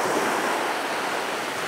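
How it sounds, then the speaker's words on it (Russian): Strong wind roaring against the microphone with a constant wash of surf on a beach at night, loud and unbroken, no voices. "К сожалению, ветер сильный,"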